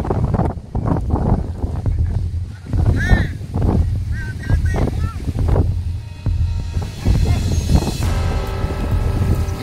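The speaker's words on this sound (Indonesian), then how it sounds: "oleh kuatnya terjangan angin yang ada di Uyula?" Strong, gusty wind roars across an outdoor kite-flying arena during a giant kite contest, loud and continuous buffeting of the microphone, with an excited commentator speaking throughout and brief honking calls.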